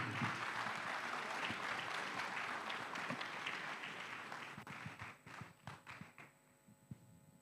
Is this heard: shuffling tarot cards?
no